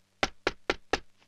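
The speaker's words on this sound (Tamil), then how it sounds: "கதவு தட்டுறாங்க யாருன்னு பாருமா" Four quick, sharp knocks strike a wooden door in an even rhythm, close and distinct, followed by a faint fifth tap in a quiet room.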